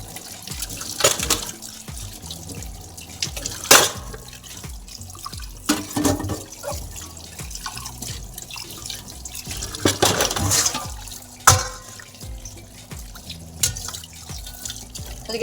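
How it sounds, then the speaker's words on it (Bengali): Scrubbed dishes are rinsed under a running tap, with a steady splash of water, drips and occasional louder clatters and knocks as the utensils are handled in the sink, close and without talking. "মাজা হয়ে গেছে এগুলো এবার ধুয়ে নেবো"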